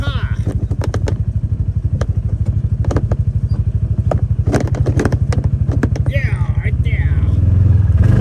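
A four-wheel-drive vehicle heads downhill on a rural dirt road, its engine pulsing in a fast, even thumping rhythm that grows louder near the end, with a short spoken remark partway through.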